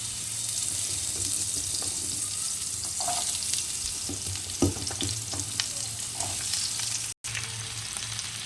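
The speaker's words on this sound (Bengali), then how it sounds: "এখন ধুয়ে রাখা সবজিগুলো ভেজে নেবো" Washed mixed vegetables fry in oil in a wok, with a constant close sizzle, scraping stirs and occasional spatula knocks, no talk, and a brief dropout near the end.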